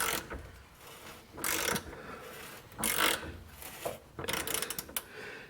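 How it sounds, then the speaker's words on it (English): Ratchet wrench of Chinese make working a rusty bolt on an 86 Chevy K30 cab removal, giving three or four bursts of rapid clicking close by with short pauses between. "Afraid I'm gonna break our Chinese ratchet."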